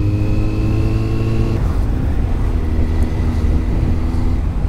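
A 2011 Kawasaki Z750R inline-four motorcycle engine hums steadily while cruising in sixth gear, a low droning tone that shifts pitch partway through, with wind rush heard close.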